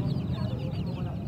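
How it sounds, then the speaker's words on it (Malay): Chickens cluck continuously and close by at a Saturday morning market in Bagan Tiang, a dense burst of clucking over a busy background. "Ada ayam."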